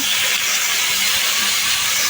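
Fish frying in a pan makes a loud, steady, dense sizzle with a faint low rumble underneath, and no one talks.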